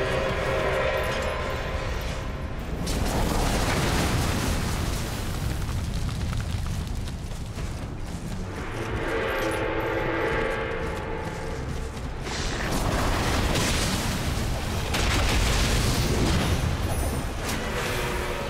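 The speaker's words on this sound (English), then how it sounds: "It's just sheer luck about not getting hit by the barrage or the cannon fire." A cannon fire barrage in the video game Nioh makes a continuous loud rumble of booms and blasts that swells and fades in waves, with no talk.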